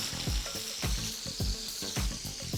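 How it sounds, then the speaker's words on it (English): Turkey testicles fry in Cajun butter and oil, a steady close sizzle with bursts of bubbling and several soft stirring scrapes at a loose rhythm. "So testicles, when you fry them, they'll actually float to the top, which means they're not gonna get pure oil coverage"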